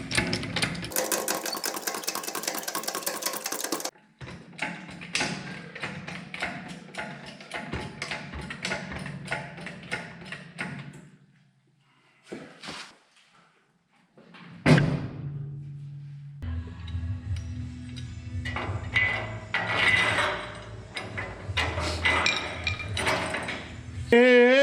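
Metal clanking and rattling while car lift runways are bolted onto the cross beams of a four-post lift, with dense mechanical chatter, a brief quiet gap, then heavy knocks and a whirring tool up close.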